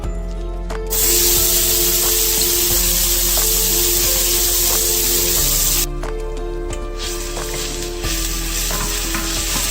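Extra virgin olive oil hits a hot cooking pan for a ragù alla Bolognese, sending out a steady, loud sizzle and hiss that carries on continuously over a low hum, with a brief quieter break partway.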